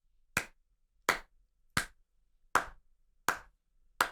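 Six slow, evenly spaced hand claps ring out alone in a quiet room, each a sharp single crack with a short decay, roughly three-quarters of a second apart.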